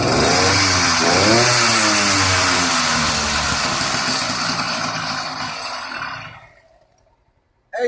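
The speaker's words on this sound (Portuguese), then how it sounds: "um motor que pode ser que apareça na nossa oficina, que é o motor 2 tempos" A small two-stroke engine runs loudly with a buzzy, rising and falling pitch, then dies away into near silence.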